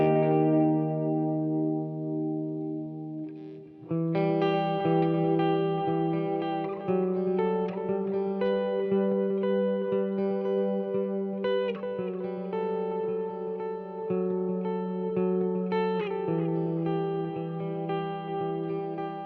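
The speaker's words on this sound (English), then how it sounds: "I find that the tape delay setting works best for this, and I got a nice little dotted eighth delay going on." Ambient electric guitar run through a Flashback delay pedal on its tape setting with dotted-eighth repeats and a Hall of Fame reverb, sustained chords and picked notes echoing and washing together in a steady shimmering stream, with no voices.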